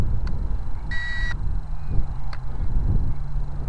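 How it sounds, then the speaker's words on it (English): A toy quadcopter drone's handheld controller emits a sharp electronic beep lasting under half a second, followed by a couple of faint clicks, over outdoor wind rumble and no speech. "you gotta hear that beep first"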